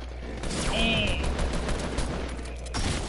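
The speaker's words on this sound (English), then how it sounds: "Shoot it down, Dominic." Rapid video-game gunfire crackles through a dense, continuous burst of shots during an online shooter match, loud and close, with players talking over the action.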